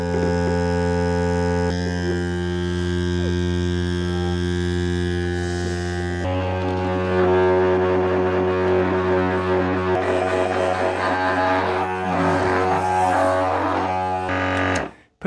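A DeWalt Grabo cordless lifter's vacuum pump runs, a steady harmonic electric hum that shifts to a rougher, busier drone midway and then cuts off abruptly, close and loud.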